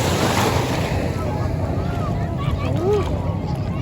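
Sea water and waves washing at a Zambales beach, a steady broad surf wash with wind buffeting the microphone throughout, fairly loud and continuous with no talk.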